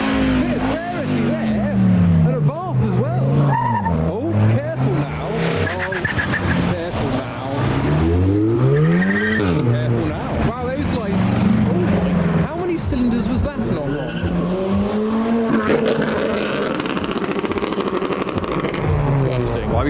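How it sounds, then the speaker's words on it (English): A loud car engine revving repeatedly at a car meet, pitch rising and falling in surges, with crowd chatter and voices underneath throughout. "Oh no, he's revving."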